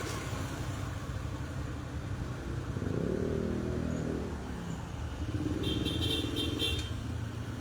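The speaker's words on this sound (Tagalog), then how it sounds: "Napakahabang traffic oh." Heavy road traffic of cars and motorcycles outside the Wesleyan gate: a steady, dense engine rumble with idling and passing vehicles, and a brief high-pitched tone toward the end.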